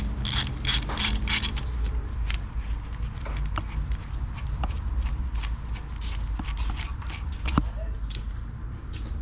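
A ratchet works loose the 17 mm bolts on a right-side front brake caliper of a Nissan Pathfinder, giving quick metallic clicking bursts and scattered clanks close by, with no talking.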